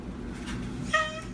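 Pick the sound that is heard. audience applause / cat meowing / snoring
cat meowing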